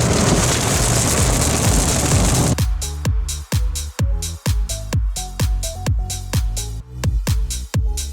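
Heavy rain hits a car driving through northern Texas, first as a dense roaring hiss of water, then as a run of sharp, rhythmic thumps and splats against the vehicle.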